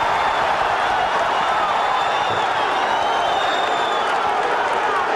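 Boxing arena crowd at the Antonio Margarito versus Paul Williams fight, a dense continuous roar of cheering and shouting with whistles on top, steady and loud throughout.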